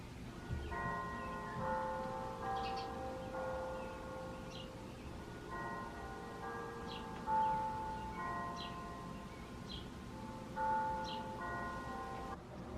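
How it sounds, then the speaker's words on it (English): Church bells peal in repeated rounds of bright, ringing tones, steady and moderately distant, with no voices present. "the church bells don't lie."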